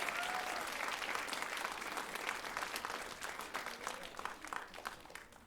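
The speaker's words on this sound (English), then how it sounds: "Let's give them another round of applause." Audience applause after a string ensemble from St. George Girls' School finishes at a concert in Rotorua: a steady, dense wash of clapping from a large crowd that stays full throughout and eases slightly toward the end.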